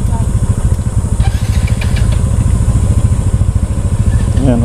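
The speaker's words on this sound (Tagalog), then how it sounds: "Starting yung motor ni Brother Ray" Motorcycle belonging to a church riders' group on a mountain road at Cabra, idling close by with a loud, steady, rapid thumping engine pulse.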